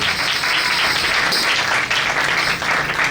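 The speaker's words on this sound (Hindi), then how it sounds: "तो आपका यीशु आ गया तो इतनी ठंडी तालियां, जोरदार तालियां यीशु के जलाल के लिए।" A church congregation claps continuously in dense, loud applause during a Christmas Eve service, holding steady throughout without fading.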